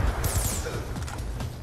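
A magnetic wave weapon fires in Call of Duty Black Ops 2, a loud crashing blast with a high, sweeping whine over a heavy low rumble of game sound.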